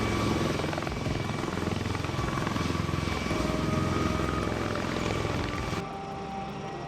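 V-22 Osprey tiltrotor aircraft flying, a loud, steady rotor drone with dense broadband roar and thumping blade rhythm, continuous and close, easing slightly in level near the end.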